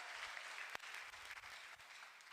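A congregation at PEFA Church Kinyinya claps steadily, with the applause sounding faint and distant throughout.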